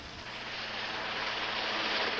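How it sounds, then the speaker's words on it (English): Rescue helicopters pass overhead, their steady broadband rotor and engine roar holding loud and unbroken, swelling slightly as the clip goes on, with no voices. "By sundown, 8 choppers were involved in the rescue efforts."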